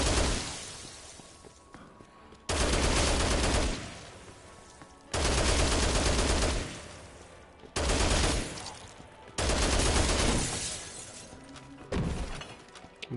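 Machine gun fire in the Dead Rising Deluxe Remaster video game, loud bursts of rapid shots repeating in several separate volleys with brief quieter gaps between them.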